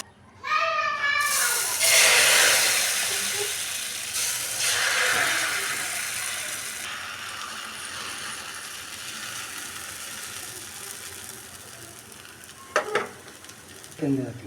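Pitha batter poured onto an oiled hot tawa sets off a loud, broad sizzle that flares up and then settles into a steady frying hiss, with a few scraping clinks near the end.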